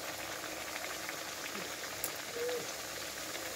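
A kachori stuffed with peas sizzles as it is slipped into hot oil in a kadai, a steady faint crackling bubble with a few brief pops.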